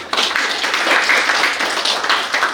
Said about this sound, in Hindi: सबके लिए, उनके लिए तालियां बजाइए आप लोग